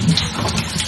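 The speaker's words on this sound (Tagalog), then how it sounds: "Ganyan ang kalakas ang aming tubig." Strong tap water gushes while rinsing water gallons at a refilling station, a steady loud broadband rush with no pauses.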